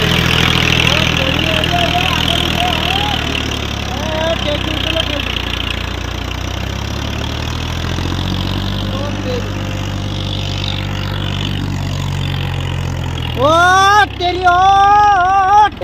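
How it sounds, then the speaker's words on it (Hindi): A tractor stuck in a field drones loudly with a heavy, steady engine rumble throughout, then revs up in rising surges near the end. "ट्रैक्टर को उठा दिया इसने आगे से, देखो ट्रैक्टर को इतना फंसा दिया इसने।"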